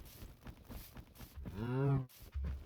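A blocky cow in Minecraft gives a single drawn-out moo, fairly close and clear, with faint footsteps and game ambience before it and a short low grunt just after.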